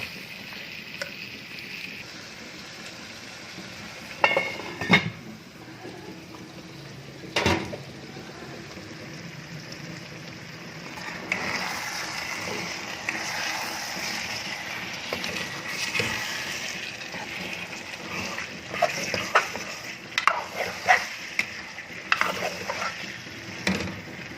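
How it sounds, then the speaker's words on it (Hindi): Aloo matar (potato and pea) gravy frying on low heat, stirred now and then with a spoon: scattered scraping and clinking knocks over a steady low hiss of cooking, with a few sharper taps. "थोड़ी थोड़ी देर बाद चम्मच चलाते जाएंगे इसके अंदर।"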